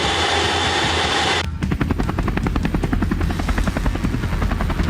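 US Air Force aircraft make a flypast over the White House during Independence Day celebrations, the loud rhythmic chopping thrum of rotors beating steadily after a brief broadband rush at the start.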